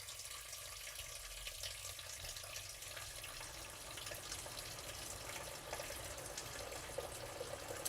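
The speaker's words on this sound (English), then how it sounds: "So I'm putting filtered water in." Filtered water poured into a cooking pot for a short-cook broth: a soft, continuous stream of splashing and trickling, fairly quiet and steady throughout, no speech.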